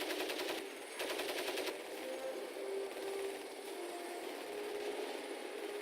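Machine gun fire in the video game Crysis, with two rapid-fire bursts of dense clattering shots over a steady loud background drone of engine or aircraft noise.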